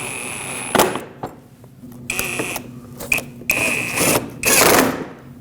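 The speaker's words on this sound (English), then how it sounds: "I'm going to put back some screws and some push clips." Screws and push clips go back into a 2006-2015 Lexus IS250 bumper cover, heard as a series of close, sharp clicks, snaps and short ratcheting bursts separated by quiet gaps.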